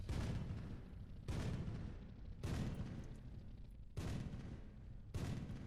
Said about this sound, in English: a very nice high velocity 75mm cannon